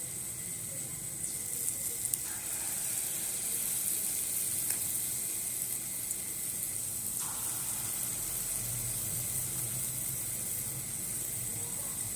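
Palm fruit fritters (taler bora) fry in hot oil with a steady, soft sizzle that crackles on for the whole stretch, with occasional faint clinks and no talking.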